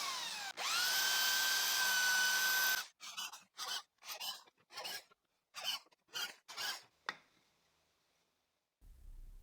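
A hand-cranked manual drill with a 3.5 mm bit bores into old wood, first in one long steady grinding burst, then in a run of short rhythmic rasping strokes, close and loud with no talk.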